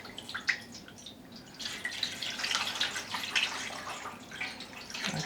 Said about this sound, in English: I'm going to add in some of the dye stock in the pan before adding the yarn